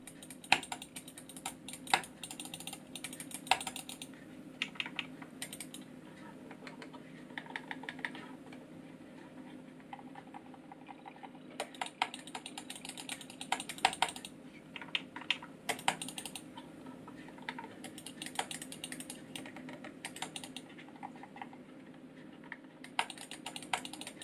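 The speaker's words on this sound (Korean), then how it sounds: "이번에는 각각의 버튼의 소음을 테스트해 보겠습니다." Steady series of small plastic clicks from the buttons of a Logitech MX Master 3 wireless mouse, irregular and quick, close up and fairly quiet, with no talking.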